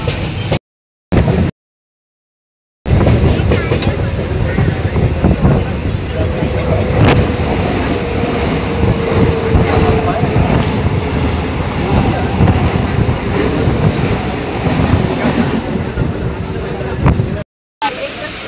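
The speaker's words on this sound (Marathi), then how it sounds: "ट्रेन आले." A passenger train rolls past close by with a loud continuous rumble and clatter lasting well over ten seconds, a crowd of people chattering around it at a station.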